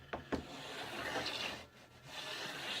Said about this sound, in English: I take my scraper and I take the wax out of the groove